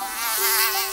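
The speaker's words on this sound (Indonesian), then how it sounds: "Hei, kawan, apa di wajahmu ada nyamuk?" A mosquito's thin, steady whine hovers close by for under a second, rising slightly in the middle, with no voices over it.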